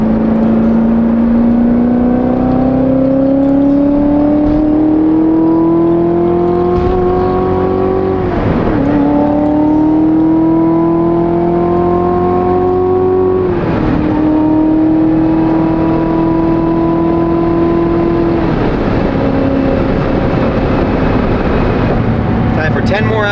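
A customized one-of-one Corvette cruising on a long drive, its engine droning loud and steady from inside the cabin, pitch rising with each gear then dipping at three shifts.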